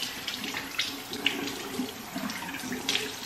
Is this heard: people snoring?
no